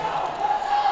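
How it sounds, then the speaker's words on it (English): Volleyball crowd on its feet at a high school match, a steady roar of cheering and shouting that stays loud and sustained through the moment, with a faint tone running beneath. "Crowd's on their feet."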